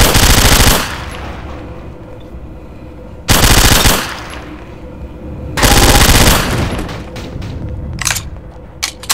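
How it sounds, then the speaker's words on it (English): Rapid-fire machine gun bursts from a drum-magazine weapon in a Gmod zombie horror map ring out in three long, loud, continuous volleys separated by short pauses, followed by a few scattered shots and echoing tails, with no talking. "The bad thing of rapid fire machine guns is that whatever drum mag you put on it, it eats up the ammunition you have there pretty fast."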